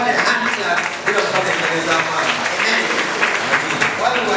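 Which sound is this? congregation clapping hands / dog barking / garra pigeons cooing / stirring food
congregation clapping hands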